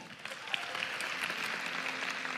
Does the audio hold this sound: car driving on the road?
no